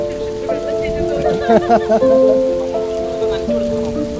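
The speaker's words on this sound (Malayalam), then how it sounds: "ഇതിപ്പോ കറക്റ്റ് മഴ പെയ്യുന്ന കൂട്ടാണ് ഇത് കേട്ടോ" Homemade artificial rain sprinkler spraying water at home: a steady, close hiss of falling droplets that continues throughout, with people talking and a tonal background sound over it.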